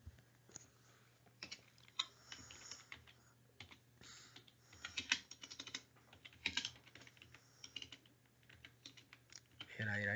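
Computer keyboard typing while writing code during a PHP programming lecture, irregular bursts of close key clicks with pauses between them and a faint steady hum underneath.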